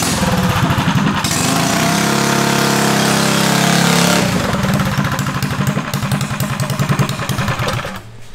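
A mini bike's small engine is cranked and revs up, first a sustained high buzzing roar, then it drops to a rapid, chugging putter, loud and close with no talk.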